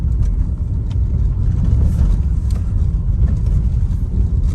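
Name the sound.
car engine accelerating while shifting into third gear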